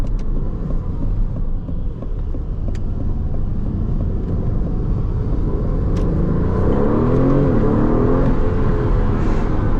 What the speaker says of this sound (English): so hopefully you can hear more of the car, because this engine is worth hearing, honestly.